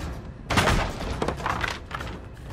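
A generator blows up in Dead by Daylight, a sudden loud burst at about half a second, followed by a crackling, rumbling tail that carries on to the end.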